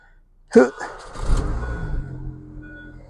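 A Mini Cooper S R53 engine catches after a fresh crank pulley and belt, giving a sharp start burst and then a steady close idle that slowly settles and fades.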